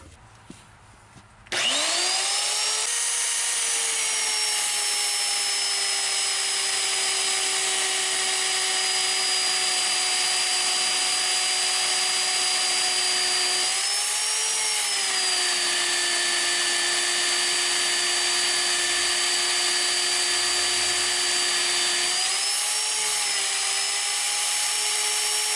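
A magnetic drill on a 4x4 wrecker build spins up after a short pause and runs as a loud, steady whine, with two brief dips in pitch partway through.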